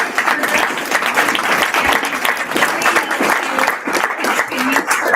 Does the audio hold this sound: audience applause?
yes